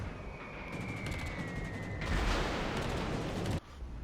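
Rapid gunfire aimed at ships in a naval war video game: dense, loud continuous shooting with a pulsing rattle, a heavier burst near the end, then a sudden drop.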